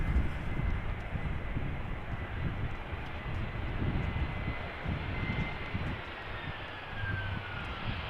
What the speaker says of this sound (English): Got an A319 from EasyJet over here, flight 22515, coming in from London Luton.